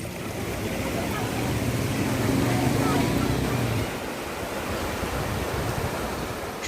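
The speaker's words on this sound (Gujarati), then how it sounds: "પ્રકૃતિનું સંગીત સંભળાવતા ઝરવાણી ધોધ" Steady, broad rushing water at Zarvani waterfall in the forested Satpura hills near the Statue of Unity, a continuous roar that carries an indistinct murmur of voices partway through.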